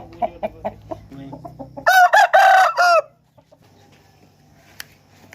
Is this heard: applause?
no